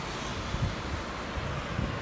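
Wind buffets the microphone in a steady low rumble with a few stronger gusts, heard outdoors along old city walls in Viterbo.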